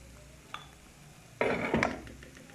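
Macaroni is tipped into a pot of cooked spices: a faint clink first, then a loud, rustling, clattering rush of pasta hitting the pot that trails off after about a second. No one speaks.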